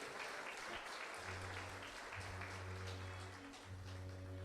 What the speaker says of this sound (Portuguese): Pode aplaudir o bom pastor.